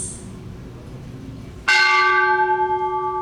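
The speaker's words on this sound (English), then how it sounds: "We will ring the bell in the middle." A single bell struck once at a United Nations Day of Peace ceremony rings out loud and close, its clear tone hanging and slowly fading with long, steady overtones.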